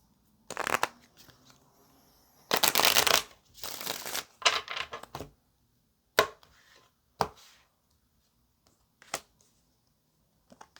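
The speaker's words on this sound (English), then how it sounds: "let's get one more shuffle" Tarot cards shuffled by hand in several quick riffling bursts with short pauses between, then a few single soft slaps and taps as the deck settles, close and fairly quiet with no talk.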